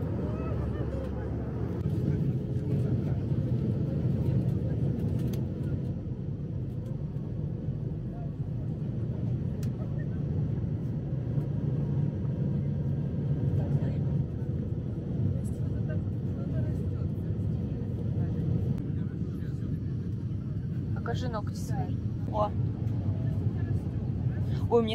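Steady low airplane cabin rumble in flight, continuous and loud throughout, with faint voices and small clicks over the drone.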